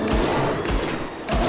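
Rifle gunfire in the Red Dead Redemption 2 video game: a dense, loud volley of overlapping shots, with heavier bursts at the start, in the middle and again near the end, rolling almost continuously.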